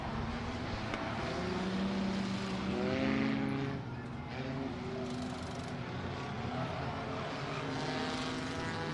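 Scrapper race cars on a small dirt kidney-bean track, a continuous engine drone with rising and falling pitch as cars pass, moderately distant, beneath a commentator's voice.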